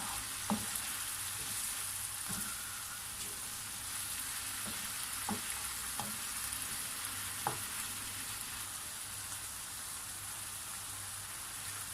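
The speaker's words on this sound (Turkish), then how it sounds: "İyice karıştırıyorum." Eggplant filling for imam bayildi sizzles steadily in a hot pan while a utensil scrapes and taps now and then as it is stirred, fairly quiet and close.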